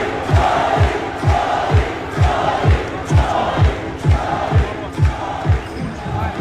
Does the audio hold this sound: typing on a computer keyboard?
no